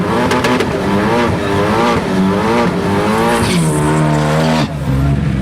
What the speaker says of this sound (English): At number 5, we have the Ford Focus ST.